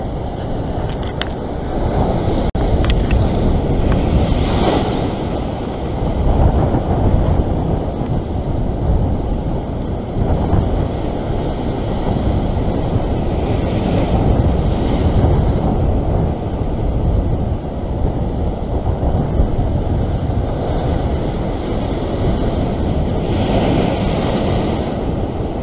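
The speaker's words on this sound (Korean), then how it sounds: "너 파도 좀 크다." Large ocean waves crash and surge against the rocks at a rock-fishing spot for blackfish, a continuous loud roar with swells rising around 5, 14 and 24 seconds, mixed with wind buffeting the microphone.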